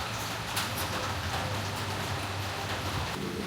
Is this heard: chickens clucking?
no